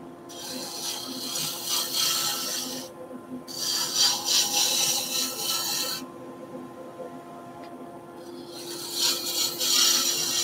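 Gouge cutting a wooden pen blank on a lathe, heard as three long stretches of scraping, rasping cuts with brief pauses between them, steady and close, over a faint motor hum.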